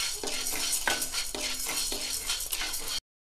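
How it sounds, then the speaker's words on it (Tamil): Chana dal dry-roasting in a pan as it is stirred, with a steady scratchy rustle and repeated spoon scrapes against the metal, all fairly close. "கடலைப்பருப்பு வறுத்துருச்சு, செவக்க வறுத்துருச்சு"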